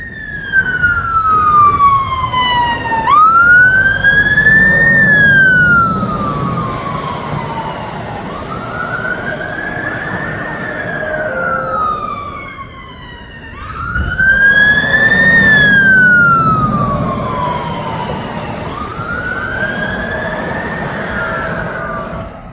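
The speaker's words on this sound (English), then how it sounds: "The fire truck." A fire truck siren passes on the road, loud and close, its wail climbing and falling in two long cycles with harsh overtones and a brief dip in the middle.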